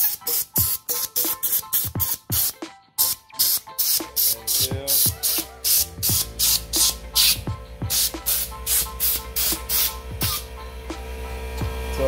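Compressed air blasts through a nozzle slipped under a Vans Cult bike grip on a 2022 Polygon Trid, a rapid string of sharp hissing puffs in steady rhythm, close and loud, with a low hum building underneath midway.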